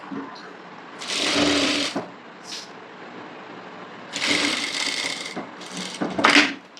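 A sewing machine stitches the neckline of a designer blouse in two bursts of whirring, one short and one longer, with quiet pauses and small handling noises between them.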